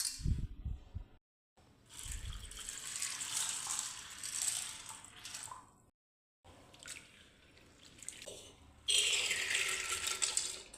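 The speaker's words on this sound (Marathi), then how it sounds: "आता ही डाळ स्वच्छ पाण्याने धुवून घ्यायची आहे" Lentils being rinsed in clean water by hand, with bursts of splashing, dripping and rattling grains in a metal vessel, separated by short quiet gaps, close and moderately loud.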